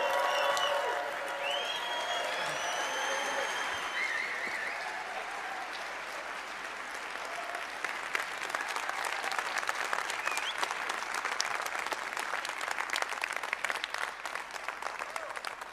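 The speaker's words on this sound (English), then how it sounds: "Cardano, please give a huge round of applause to your closing keynote speaker" Large audience applause with some cheering greets closing keynote speaker Charles Hoskinson at a Cardano event in Switzerland, a dense, sustained roar of clapping that runs unbroken throughout.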